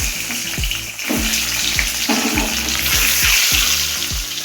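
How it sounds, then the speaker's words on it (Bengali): Eggs frying in a pan after potatoes, a steady loud sizzle with spattering crackles running throughout, close up and with no talking. "এবার ডিমটা ভেজে নিচ্ছি।"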